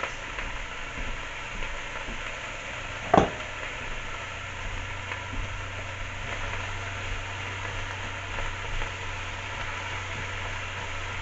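Aromatics for a pot roast cook in a pot with a faint, continuous low sizzle and a single brief clatter of stirring, the background hum staying steady throughout.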